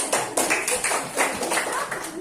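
Students clapping for group 4 in a classroom, a short uneven burst of hand claps close by with voices mixed in.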